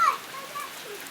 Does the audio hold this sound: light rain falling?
yes